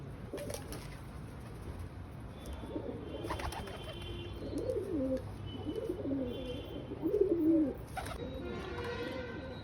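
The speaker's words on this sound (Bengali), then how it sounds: "এই যে পায়রা দুটো" Pigeons coo in a series of soft, rolling calls close by at a house rooftop, with a few brief clatters and faint background noise.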